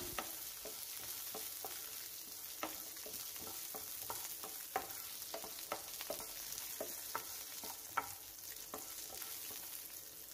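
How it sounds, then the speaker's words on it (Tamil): A bunch of curry leaves, ginger and fifteen to twenty small shallots roast in oil for a pirandai thuvaiyal, with a continuous sizzle punctuated by frequent sharp spoon scrapes and taps against the pan. "ஒரு கொத்து கருவேப்பிலை பதினஞ்சுலேருந்து இருபது சின்ன வெங்காயம் அதையும் போட்டு இந்த ஆயிலே நல்லா ரோஸ்ட் பண்ணிக்கலாம்"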